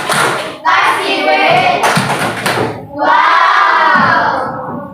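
Classroom pupils in a fractions lesson clap as a group, a busy patter of hands blended with excited chanting voices that rise and swell, near and loud for the whole stretch.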